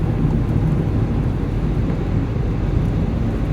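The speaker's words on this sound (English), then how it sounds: "And pissing down rain." Heavy rain pours down in a steady, dense roar that fills the whole stretch without a break, loud and close, with no voices.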